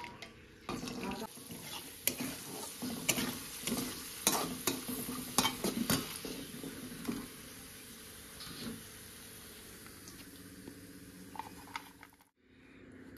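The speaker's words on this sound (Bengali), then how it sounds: "কাজু আর কিশমিশটাও ভেজে নেব।" Cashews and raisins fry in a pan for fried rice, a soft sizzle under close scraping and clinks of a spoon stirring against the pan, busy at first and then settling to a quieter sizzle.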